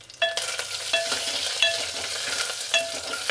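Curry leaves hit hot oil in a pan and crackle with a dense, steady sizzle, broken by several sharp scrapes of a spoon stirring, close up with no voices.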